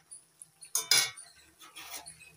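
Broccoli being stirred in a cooking pan, a utensil scraping and clinking against the metal in a few short bursts, with a louder clatter near the middle and softer scrapes after, close and alone.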